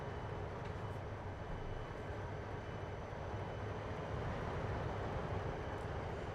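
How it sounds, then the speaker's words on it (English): A freight train in Trainz Simulator 2 rumbles past steadily, a continuous low rolling drone with faint high squeal running unbroken throughout at constant loudness, with no talk over it. "here's this freight train, which is currently in our way"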